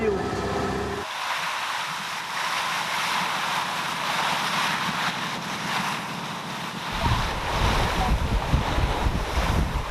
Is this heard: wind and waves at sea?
yes